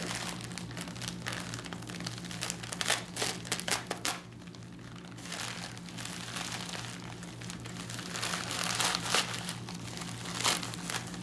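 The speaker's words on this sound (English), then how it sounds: "looks like I have to cut this one open too" A package being cut open with a knife, close and fairly steady, with crinkling and scraping of wrapping and cardboard over a low constant hum, briefly quieter partway through.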